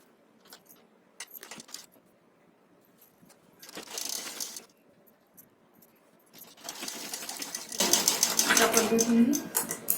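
A sewing machine stitches fabric for a one-year-old's Nauvari saree, running in short bursts and then a longer, louder run near the end, with faint clinks in between.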